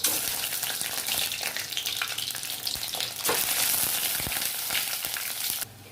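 Boiled eggs fry in hot oil in a village kitchen, a steady loud sizzle and crackle running throughout with occasional stirring clatter, then cutting off abruptly near the end.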